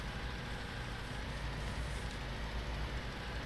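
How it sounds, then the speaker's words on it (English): Steady, continuous engine drone of an old John Deere tractor in Farming Simulator 19, heard from an outside third-person view at autumn farm fertilizing, a constant low rumble without pauses. "Yeah, I think the engine sounds really good."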